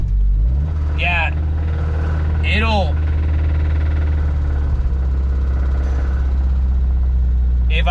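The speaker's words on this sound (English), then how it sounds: "if I keep my foot just barely on the gas, it'll idle" A Mazda B2000 pickup engine idles roughly and low, a steady rumbling throb with a faint rod knock suspected and a carburetor fault, while someone speaks briefly over it a few times.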